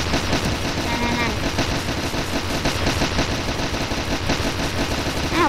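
Gunfire in the Roblox game AI War, a dense, continuous rattle of rapid automatic shots that stays loud throughout, with voices talking over it.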